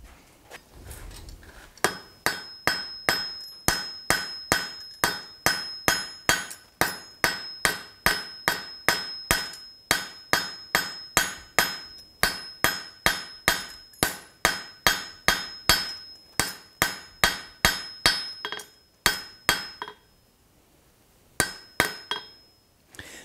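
A hot high speed steel tipped punch is struck with a hammer on an anvil at the forge, dozens of loud ringing metallic blows in a fast steady rhythm, with a brief pause near the end before a few final strikes.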